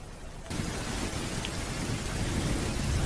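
Steady heavy rain pours down with a low rumble of thunder beneath it, the downpour suddenly growing louder after half a second and continuing as a dense, constant hiss with no voices.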